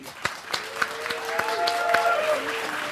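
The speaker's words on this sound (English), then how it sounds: "let's give a big round of applause for Maria Helena Dolan" Audience applause at a community birthday and heritage tribute event, with sharp individual claps over a steady crowd wash and some faint voices in the room.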